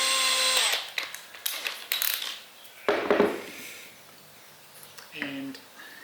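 A small power drill with a 2.5mm bit bores into a wooden rifle stock in brief bursts, with clicks and knocks between them, a short pause, then one more quick spin.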